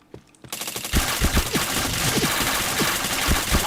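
Rapid gunfire from a Nobunaga-themed katana action video game, a quiet start giving way after half a second to a dense, loud run of sharp shots with some louder cracks standing out, and no talking.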